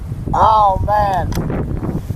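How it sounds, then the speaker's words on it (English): Strong gusting wind buffets the microphone at an outdoor long-range rifle range, a loud steady roar underneath a voice speaking briefly. "that's a pretty hefty wind"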